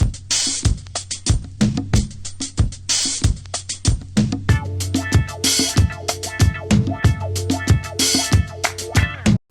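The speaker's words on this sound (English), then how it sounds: "this is that sample down 4 semitones and 4 cents" A music sample pitched down four semitones plays with a thick, slowed beat: heavy kick and snare hits under a warm, lowered melodic layer, full and steady without any voice.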